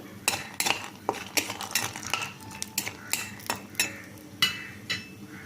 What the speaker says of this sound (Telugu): ముందుగా పల్లీలు కొంచెం రోస్ట్గా వేయించుకోవాలి మీడియంలో పెట్టి